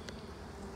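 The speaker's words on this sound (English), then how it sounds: "But I think we've got a fairly solid box of bees." Honey bees hum steadily inside a hive box, a soft continuous buzz at low level with a brief brighter flicker near the start and no talk.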